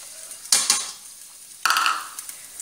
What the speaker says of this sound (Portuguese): Vou colocar uns dois dentes de alho picadinho.